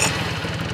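A motorcycle engine starting with the electric button and settling into a steady, close, throbbing idle with a rapid even pulse for under a second.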